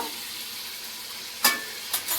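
A soft, continuous hiss of degi mirch chili tempering in hot oil, broken by two or three brief sharp crackles toward the end.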